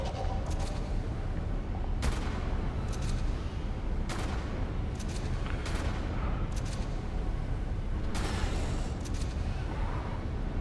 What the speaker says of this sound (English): So, this is why we brought the shotgun with us.